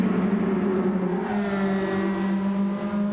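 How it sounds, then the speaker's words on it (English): A Nissan S15 Silvia in Gran Turismo 7 revs hard with a steady, loud, high-pitched engine drone that holds flat and climbs slightly, close and continuous throughout. "Absolutely revving the nuts out of that S15"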